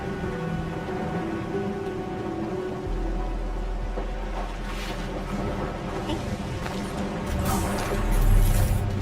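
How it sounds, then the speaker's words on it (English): Heavy rain pours steadily in a cutscene from the sci-fi action game Arknights: Endfield, a dense continuous hiss with a low mechanical rumble joining partway and swelling near the end, with no voices. "It's raining harder. I can't hear anything except for the rain."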